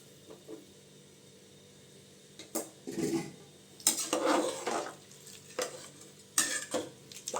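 A spoon stirs rice and water in a metal pot, scraping and sloshing in several bursts with pauses, close and moderately loud.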